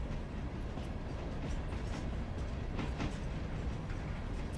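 A train in the game Railroader rolls along with a steady, dense low rumble and faint rail clatter, continuous and close, with no talking.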